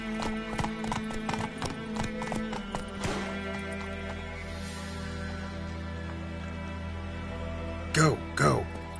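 Roach, the horse in The Witcher 3 video game, clip-clops along in a fast, steady hoofbeat rhythm over a sustained musical drone, then snorts or whinnies loudly twice near the end.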